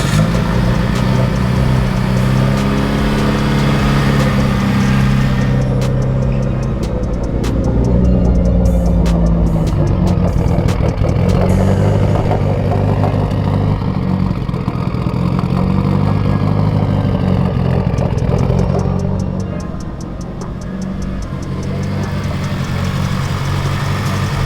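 A Subaru STI being worked on after a wreck, engine running at a rough idle with a deep rumbling drone and uneven revving, close and loud, dipping slightly near the end.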